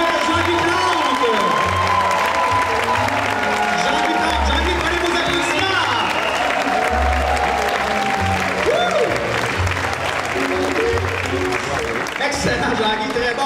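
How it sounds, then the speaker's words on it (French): Sustained applause from a gala audience at a retirees' evening, a dense, loud clapping crowd filling the whole stretch, with music and some voices mixed in beneath. "prenez vos applaudissements!"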